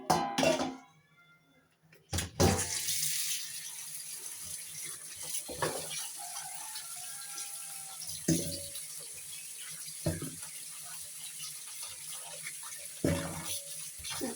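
Pickling vegetables being washed in water in a kitchen, with soft splashes and clinks of vegetables against a bowl recurring every few seconds after a brief hush, fairly close and faint.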